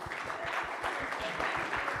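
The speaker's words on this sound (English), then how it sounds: "Let's give them a big round of applause when they run in." Audience applause at a conference lightning-talk session: a short, steady patter of many hands clapping in a hall, fairly dense and even throughout.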